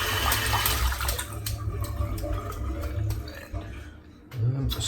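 Running water from a tap rinses soap out of a shaving brush, a steady splashing flow with brief squeezing and dripping, and someone speaks over it.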